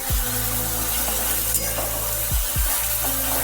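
Boiled, drained spinach hits a hot pan while cooking a Bengali prawn and spinach ghonto, giving a steady wet sizzle with a few low clunks of utensils against the pan, close and continuous.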